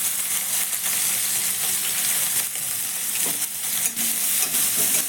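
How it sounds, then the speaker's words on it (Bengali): Mustard seeds, cumin, chopped onion and green and red chillies fry in oil, a continuous close sizzle with light stirring scrapes and no talk. "তখন এর মধ্যে আমি দিয়ে দেব একটা ছোট সাইজের কুচনো পেঁয়াজ, আর ঝালের জন্য একটা কাঁচা আর একটা পাকা লঙ্কা"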